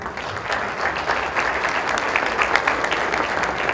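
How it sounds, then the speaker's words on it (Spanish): Applause from the audience at a 2019 mayors' forum panel on smart cities, dense and steady clapping that fills the room at close range, loud and even throughout with no voices on top. "Un aplauso, por favor."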